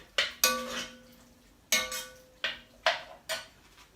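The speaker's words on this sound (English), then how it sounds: "Chuck them in. Give it a stir around." Chopped tomatoes go into a pot of chilli curry, followed by about six sharp metallic clanks and scrapes of a spoon against the pot, spaced irregularly and close by.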